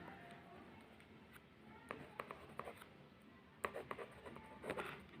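Pen writing subject names on an exam envelope: faint, close scratchy strokes in short irregular bursts over a quiet room, with a few brisker scribbles toward the end.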